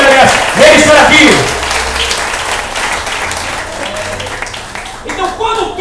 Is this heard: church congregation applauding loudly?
yes